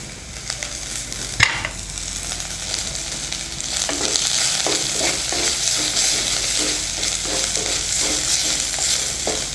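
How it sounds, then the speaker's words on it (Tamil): Chopped mango ginger and turmeric sauté in a pan with a steady sizzle. A sharp knock comes early, followed by repeated close scraping stirs. "இப்போ இது எல்லாத்தையும் நல்லா சேர்த்து வதக்கிக்கலாம்."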